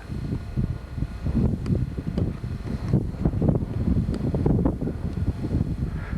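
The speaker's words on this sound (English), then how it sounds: "Wind's blowing kind of hard here today" Hard wind buffeting the microphone outdoors near the Alvord Desert, a continuous low rumbling roar with gusty surges and no talk.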